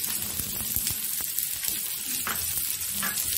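Onion frying in oil on a flat tawa, a steady soft sizzle with small crackles and a few stirring clicks, close and fairly quiet with no talking.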